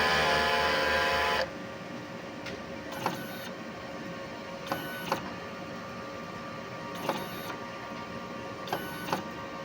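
Inkjet printer running a print head cleaning cycle. A loud whirring burst of the pump and carriage gives way to a steady mechanical hum, punctuated by several evenly spaced clicks and ticks as the head moves.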